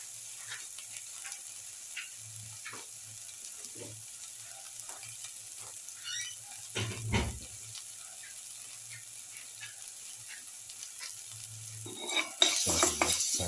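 Spices being sautéed and stirred in a pan for pepper lamb ribs, with soft sizzling and scattered light clinks of a utensil on metal, close and fairly quiet, with a louder scrape near the end.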